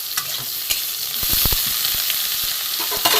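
Peeled brinjal frying in hot oil in a pan for a vegetarian drumstick-leaf dish, a loud continuous sizzle with a cluster of sharp spitting pops in the middle and a few more toward the end.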